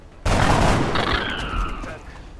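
A sharp burst of gunfire in the video game XCOM: Enemy Within rings out loud and close, followed by a fading metallic ring and echo.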